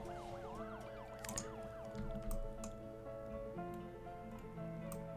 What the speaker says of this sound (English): it looks like they're sending us ambulances, Blondie is.